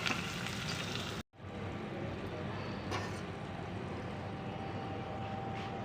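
Curry leaf sprigs sizzle and crackle in hot oil while fish pulusu is being made, a continuous close frying hiss that drops out for a moment and then carries on steadily.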